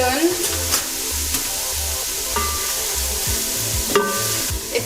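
Olive oil warming in a pan for artichoke risotto crackles with a steady close sizzle, while a wooden spoon scrapes and taps in uneven strokes over a low rhythmic hum.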